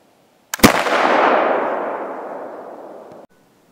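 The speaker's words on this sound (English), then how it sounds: ".50 caliber flintlock." A single shot from a .50 caliber flintlock cracks sharply at close range, with a brief priming flash just before the main blast, then a long rolling report that fades over about two and a half seconds.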